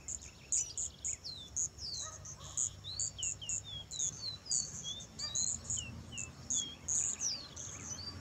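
Several caboclinho seedeaters sing in a gathering, repeated clear whistled phrases and sweeping chirps in quick succession, fairly close and loud, over a low background hum.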